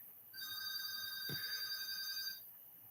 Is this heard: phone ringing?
yes